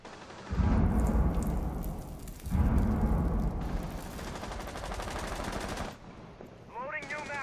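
Rapid bursts of video game gunfire, loud and close, come in two heavy volleys followed by sustained automatic shooting, with a short high electronic chirp at the end.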